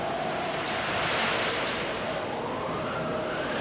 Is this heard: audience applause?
no